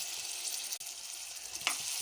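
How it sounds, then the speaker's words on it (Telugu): Drumstick curry sizzling steadily in a pan after turmeric, salt and chili powder go in, a bright continuous hiss with one brief stir near the end. "పసుపు, ఉప్పు, కారం వేసి బాగా వేగనివ్వాలి"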